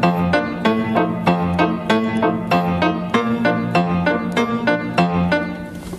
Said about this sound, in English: So this is the left hand in piano ragtime.